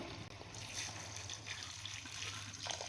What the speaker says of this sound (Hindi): मैं 1 गिलास के करीब इसमें पानी डाल रही हूँ।